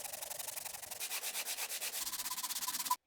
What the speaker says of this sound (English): I want to get these mallets looking nice and smooth, and that requires a lot of sanding